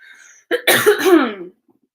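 A single harsh cough, close and alone, with a faint breath before it and quiet afterward.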